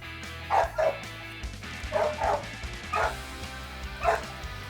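A stray dog gives a series of short, close yips and barks mixed with whimpers, spaced irregularly over a low engine-like rumble, as if riding in a truck.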